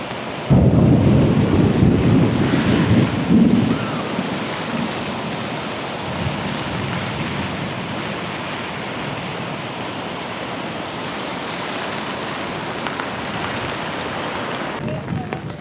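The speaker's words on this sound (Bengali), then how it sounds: "আর যেহেতু এখন বৃষ্টি হচ্ছে," Rain falls heavily at Bhatinda waterfall, a dense, even hiss throughout. It opens with a loud, deep rumble of thunder that fades into the steady downpour.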